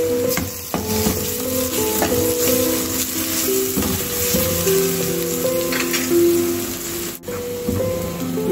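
Grated onion and garlic fry in three tablespoons of oil, giving a loud, dense, continuous sizzle up close. Stirring scrapes and clatter run through it, and nobody talks.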